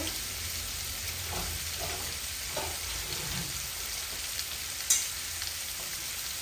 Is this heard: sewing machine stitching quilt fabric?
no